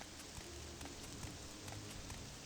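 Steady rain falls on an open road in the game Morrowind, a faint, even patter of drops with soft scattered taps, and no voices.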